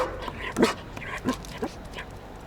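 A Swiss shepherd dog gives three short, close barks and yips in quick succession, with a person's voice faintly in the background.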